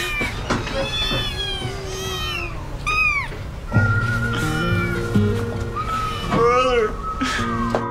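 Kitten meows in a staged comedy train-robbery skit, several short high cries and one longer wavering wail, close and fairly loud, with people talking between them.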